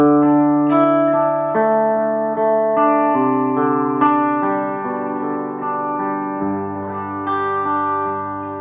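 Electric guitar played through an amp with a volume pedal and no overdrive, a clean, full tone of sustained notes and chords that swell and ring out one after another, close and loud with no talking.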